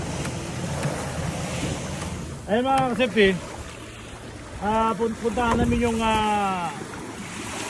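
A small outrigger boat (bangka) heading out on the sea off Flor de Lis, Macrohon, with a steady wash of waves, water and wind running throughout while people talk over it in two bursts.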